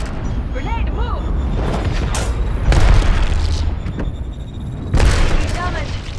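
Grenade explosions in the video game Apex Legends, with loud booming blasts rolling over constant game noise and gunfire while players talk over the action.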